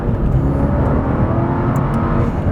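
A Mercedes CLK DTM supercar engine accelerating under load, a steady loud roar with a rising drone that stays close and continuous, with other cars also accelerating alongside.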